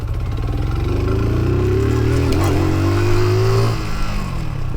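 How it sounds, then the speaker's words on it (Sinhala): A Tycorun Scrambler motorcycle's engine revs and drones loudly up close as it rides over a small bump, rising in pitch through the pass before easing off near the end. "මම පොඩි ගැට්ටක් තියෙන බයික් එක පන්නලා පෙන්නන්නම් කොහොමද මේකේ සස්පෙන්ෂන් කියලා"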